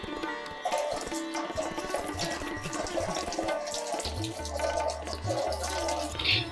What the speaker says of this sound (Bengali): এবার আমি বাঁধাকপিটাকে গোটা অবস্থায় ভালো করে ধুয়ে নেব।